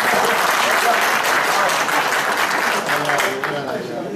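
A crowd applauds steadily during a speech at a Karaman, Turkey tourism event, dense clapping filling the room, with voices mixed in underneath as it gradually tapers toward the end.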